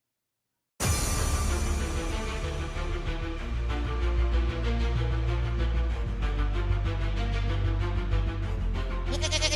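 A man imitates a goat with a long, loud, wavering nasal bleat that starts suddenly after a brief silence and holds steadily for several seconds.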